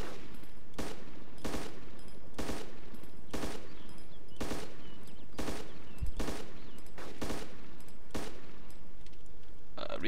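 Gunfire in the video game DayZ, fired at aircraft: about a dozen loud, sharp single shots at a steady, fairly quick pace over a continuous background rumble.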